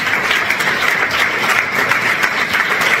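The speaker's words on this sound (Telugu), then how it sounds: "ఒకసారి 2 చేతుల పైకి చప్పట్లు కొట్టి దేవుని నామాన్ని మహిమపరచుదాం" A church congregation claps with both hands raised in praise, loud continuous applause close by, a steady wash of hand claps with no break throughout.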